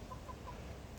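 Hens with their chicks in a farm coop pen give brief, soft clucks, heard faintly from a short distance over a low background.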